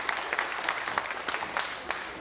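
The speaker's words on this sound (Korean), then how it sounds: "여러분 축하의 박수를 부탁하겠습니다." A studio audience at a 1983 KBS television broadcast of a family reunion program claps together in a brief burst of brisk, dense applause.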